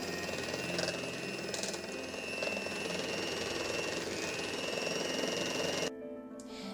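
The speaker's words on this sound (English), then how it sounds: "I'm going to whisk a little bit until it gets perfect forms" Whipped cream being whisked for a chocolate sponge cake, a steady close whirring drone that runs evenly and drops away just before the end.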